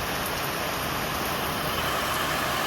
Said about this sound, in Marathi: चांगलाच जोरात चालू झालाय पाऊस.